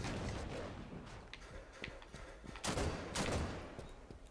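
In a Halo 5 multiplayer Arena Slayer match, a plasma caster fires several quick, soft bursts, fairly faint and mixed with the game's background noise.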